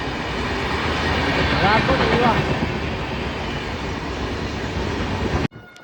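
A train rumbles loudly in a station with steady rolling noise and a brief squeal of wheels, while people talk beneath the din before it cuts off.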